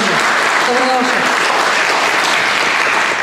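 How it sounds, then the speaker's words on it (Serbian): Audience applause for a speaker being welcomed at a public forum on vaccination in Šabac, Serbia: dense, steady clapping from a full hall, loud and sustained throughout, with a brief voice rising over it near the start. "jedan aplauz i za našu Snežu"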